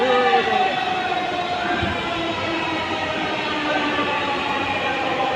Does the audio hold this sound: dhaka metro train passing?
yes